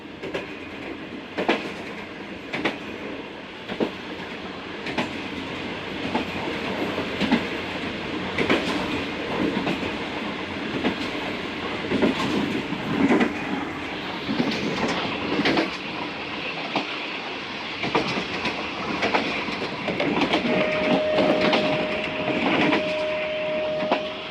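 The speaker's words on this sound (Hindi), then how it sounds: "बुक स्पीड पर ही ट्रेन चल रही है हमारी" The Musapak shuttle passenger train runs on rails at about 80 km/h between Multan and Dera Ghazi Khan, with steady rumble, rhythmic clickety-clack of the wheels and a sustained tone near the end.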